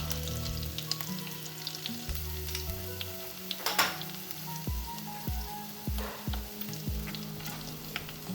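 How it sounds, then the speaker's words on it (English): Garlic sizzles and fries steadily in hot melted butter in a pan for paneer butter masala, a dense crackling hiss with a few soft stirring knocks and clatters near the end, no talk. "The butter has melted. Drop the garlic in."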